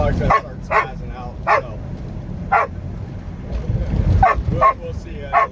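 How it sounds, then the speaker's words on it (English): A dog inside a car barks in a string of about seven sharp, loud yips spaced irregularly over the low hum of the moving vehicle. "This dog's gonna start spazzing out."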